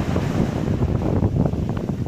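Sea waves wash over the sand of a Saudi Arabian beach on the coast between Jeddah and Jazan. The rush of water is steady and close, mixed with gusts of wind against the microphone, and no one speaks.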